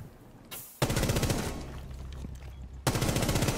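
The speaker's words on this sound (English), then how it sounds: "why bullets coming through on my side?" Automatic gunfire in the Rainbow Six Siege video game, loud bursts that cut in sharply and run continuously through most of the clip after a brief lull, with a second burst near the end.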